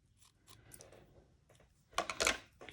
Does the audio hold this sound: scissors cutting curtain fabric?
yes